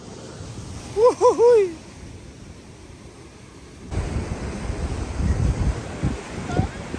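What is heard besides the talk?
ocean waves at the shore while fishing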